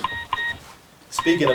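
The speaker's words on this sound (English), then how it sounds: "that's my alarm to pray." A phone alarm sounding a reminder to pray gives a few bright, chiming electronic beeps in quick pairs, with a voice talking over the end.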